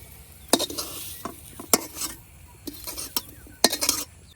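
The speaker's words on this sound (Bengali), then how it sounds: "পেঁয়াজ রসুনটা ভাজা হয়ে গেছে।" Onion and garlic dry-frying in an oil-free pan, stirred with a utensil in several sharp scraping strokes that recur irregularly over a faint, soft sizzle, with no talking.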